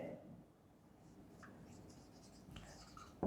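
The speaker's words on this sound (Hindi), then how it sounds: "चलिए मैं पहले एक बार इसको थोड़ा लिख भी लूं" A pen writing during a statistics lecture on probability theory, giving soft intermittent scratching strokes, faint and close, with a louder knock at the end and no speech.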